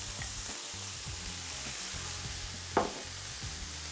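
Kale cooks down in a pan with a soft, steady sizzle, faint and close, with light stirring scrapes and one sharper clack near the end.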